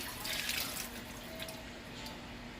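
Boiled potatoes being drained, with water trickling and dripping steadily into a sink, fairly soft and close, with no talk over it.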